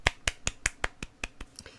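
Animated ghosts clapping, about nine crisp, evenly spaced claps in quick succession that fade slightly toward the end, dry and close with no other sound.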